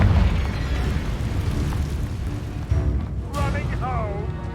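A Confringo fire spell explodes in Hogwarts Legacy with a loud, rumbling burst that carries on under steady game ambience, followed by a brief whooshing flare, with no talk.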